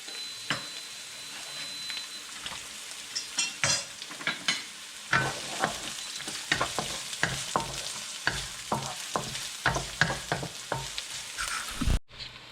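Onions sizzle and crackle in a hot pan, with repeated scraping and stirring clatters over a steady frying hiss, while cooking chicken asado.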